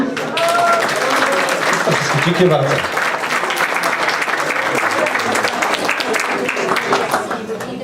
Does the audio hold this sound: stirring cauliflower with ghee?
no